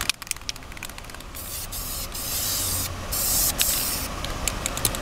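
Spray paint hisses onto engine parts such as a harmonic balancer in a garage, in short bursts and longer sustained blasts with brief pauses between, close and fairly loud.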